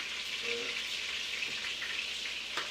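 Chicken fries in an enameled cast iron Dutch oven, a steady close sizzle with small crackles and pops throughout, no talking.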